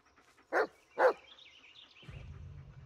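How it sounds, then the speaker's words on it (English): Bullet the dog barks twice in quick succession in the Blair Witch game, sharp and close, followed by a low rumbling ambient hum. "Listen to his barking and watch his body language."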